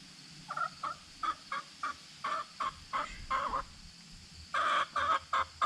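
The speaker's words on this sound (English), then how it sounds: "You can hear the chickens." Chickens cluck nearby in a string of short, evenly spaced bursts, with a louder cluster of calls near the end and no talk over them.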